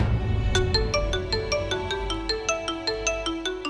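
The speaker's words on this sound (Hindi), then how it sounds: "इतनी रात को इसका क्यों फोन आ रहा है?" A mobile phone ringtone for an incoming call rings late at night, its bright chiming pattern repeating in a steady rhythm over a low background hum, clear and fairly loud with no talk.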